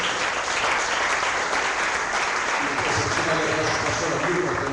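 Church congregation applauding together for the Lord during a worship service, a steady broad wash of clapping with voices mixed in throughout.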